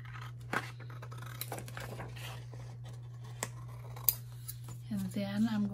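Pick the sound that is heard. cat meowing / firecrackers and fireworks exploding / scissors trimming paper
scissors trimming paper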